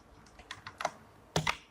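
Several quiet keystrokes on a computer keyboard while Python code is typed, irregular clicks close by with short gaps and no speech.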